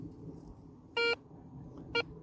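A metal detector out on a treasure hunt gives two short, clear electronic beeps about a second apart, the first longer than the second, over faint outdoor background.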